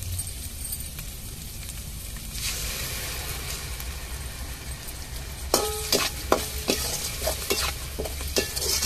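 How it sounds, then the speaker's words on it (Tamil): Small onions with ground tomato sautéing in a pan for a chicken leg curry, a steady close sizzle and fry throughout, with a run of scraping, clinking stirring strokes near the end. "நல்லா வதக்கி விட்டுக்கிடுவோங்க."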